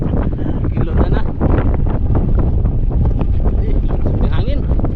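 Strong wind buffets the microphone continuously in a loud, rough rumble while fishing with live squid bait, with a voice partly buried beneath it.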